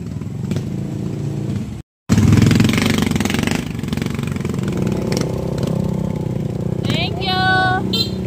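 A motorcycle engine runs nearby with a loud, rough, steady rumble and rattle throughout, interrupted by a brief dropout, with faint tonal chirps near the end.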